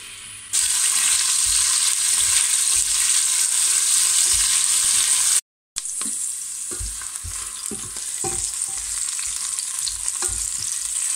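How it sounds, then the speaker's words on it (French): Bell peppers sizzle steadily in a hot pan, a loud, continuous hiss with scraping stirs, broken by a brief silent gap before the frying resumes with occasional clicks of the utensil. "je viens mettre en premier les poivrons, car ils sont un peu plus longs à cuire que le reste des légumes"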